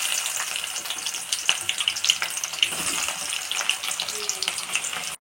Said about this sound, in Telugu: ఇందులోకి ఆనియన్స్ వేసేసుకొని ఫ్రై చేసుకోవాలి.